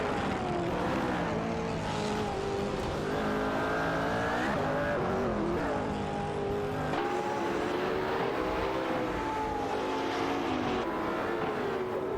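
Race cars in a racing video game, several engines roaring together with rising and falling pitch as they accelerate and shift, loud and continuous, the pack jostling closely throughout.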